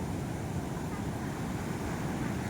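Nighttime surf at a beach, a continuous heavy wash of breaking waves with wind rushing across the microphone and no distinct voices.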